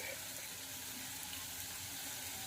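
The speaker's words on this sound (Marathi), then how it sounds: "पाण्याला छान उकळी आलेली आहे" Steady low bubbling and hiss of water at a rolling boil in a pot, with cardamom powder added, fairly quiet and continuous with no talking.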